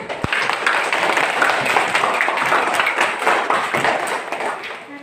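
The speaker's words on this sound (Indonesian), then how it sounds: "Tepuk tangan dulu untuk kelompok 1." Schoolchildren in an elementary classroom at SDN 28 Engkolai clap for a presenting group, a busy patter of many small hands with a few sharper taps, fairly close and continuous before tapering off.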